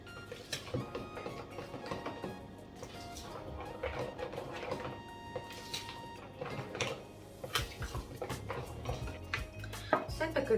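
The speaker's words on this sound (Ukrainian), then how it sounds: "Зараз візьму ложку і продовжу мішати" A spoon knocks and scrapes against a bowl while stirring Easter bread batter, in an irregular rhythm, close and fairly quiet, with soft clinks throughout.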